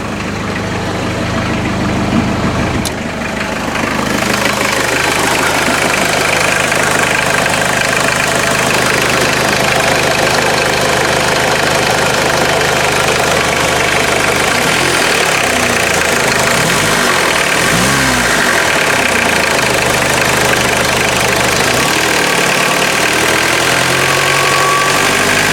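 A 1986 Ford Escort 2.0L diesel engine idles low at about 800 rpm, a steady, loud mechanical rumble with a diesel clatter and vibration, heard close under the open hood without talk.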